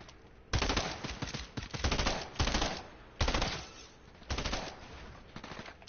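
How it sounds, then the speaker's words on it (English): Submachine-gun fire in a video game: loud, close bursts of rapid automatic shots, five or six volleys separated by short pauses, with no talk. "I got this freaking horrible SMG."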